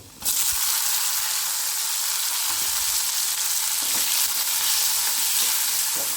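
Tomatoes and green chillies fry in a pan over ginger and garlic, giving a loud, steady, close sizzle with faint stirring scrapes throughout.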